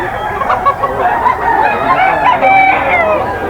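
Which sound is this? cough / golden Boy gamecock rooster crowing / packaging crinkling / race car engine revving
golden Boy gamecock rooster crowing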